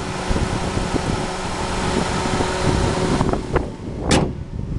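A 2009 Toyota Corolla S with 39,000 miles idles quietly, giving a steady low hum with a faint whirring fan and no voices.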